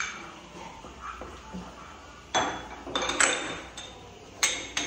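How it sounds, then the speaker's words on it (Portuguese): Dirty dishes and cutlery are gathered up after a children's cooking activity, giving a few sharp clinks and clatters over a quiet room hum, with no talking. "Tu alcança a louça suja lá pra Fábio, por favor."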